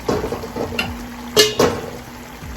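Chicken pieces sizzle as they are fried and stirred in a cooked-down spice paste for morog polao, with spoon scrapes against the pan and a few sharper clinks over the steady frying.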